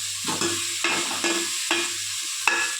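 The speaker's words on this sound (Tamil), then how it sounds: "நல்லா வதக்கிக்கலாம்" Food sautéing in a pan, close and sizzling, with four or five rhythmic scraping stirs of a spatula repeating about every half second.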